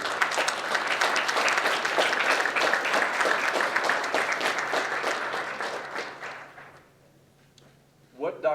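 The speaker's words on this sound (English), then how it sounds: "So how about a round of applause for those two?" Conference audience applauding at a moral injury conference, a dense sustained clapping that holds steady for about six seconds, then fades out, with a brief voice at the end.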